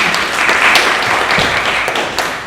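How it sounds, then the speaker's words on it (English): A concert audience at Albany State University gives a jazz pianist a steady round of applause, dense continuous clapping from many hands that holds evenly throughout. "Please give him a nice round of applause"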